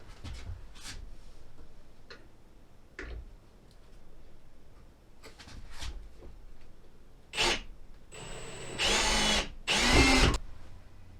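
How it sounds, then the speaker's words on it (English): A power drill bores a hole through a wall for solar wiring in a tiny home, with short, fairly faint bursts early on that build to louder, longer drilling runs near the end. "we drilled a hole in the wall for the photovoltaic wires and the leads to the battery to go through"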